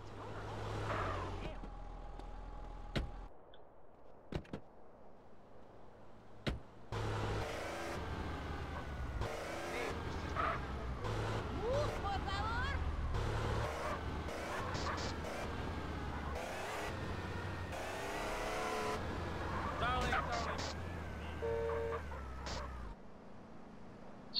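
A car pulls up to a parking valet stand in GTA San Andreas, its mid-pitched engine humming steadily and revving briefly over ambient game sounds, with a few sharp clicks early on and no talking.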